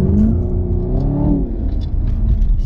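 A Chevrolet Camaro ZL1, a rare factory 650-horsepower car, accelerates with a loud, rising engine roar and a deep rumble that swell and then settle. The sound is close and steady, with no talking.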